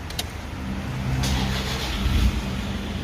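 A Toyota Vigo pickup's engine starts and settles into a steady low idle, heard close and moderately loud with a brief click at the start and no talking.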